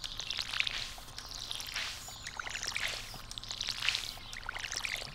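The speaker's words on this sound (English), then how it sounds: "I watered that one twice" A watering can sprinkles crops in Stardew Valley, soft splashy pours repeating about once a second over quiet background game sounds.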